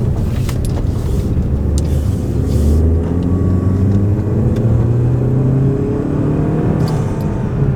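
A 2014 Chevy Cruze RS engine with a cold air intake drones loudly and revs up, rising in pitch, heard from inside the cabin with a steady roaring intake.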